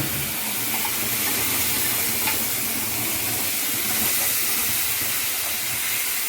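Ground masala paste for paneer masala hitting a hot pan, producing a loud, steady, close sizzling hiss that holds evenly from start to finish with no voices.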